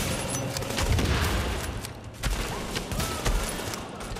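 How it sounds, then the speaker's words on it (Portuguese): Gunfire crackles in Tom Clancy's The Division during a fight at the Russian Consulate, with bursts of rapid shots and scattered cracks from several directions at moderate loudness and no voices. "tomando tiro quanto é lado"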